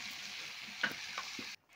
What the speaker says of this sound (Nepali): बिस्तारै यसलाई चलाउनु, बिस्तारै सानो आगोमा भुट्नु